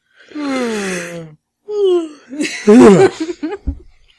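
Several people yawn together, drawn-out breathy vocal sighs with wavering pitch, followed by a few short breathy exhales and a soft laugh.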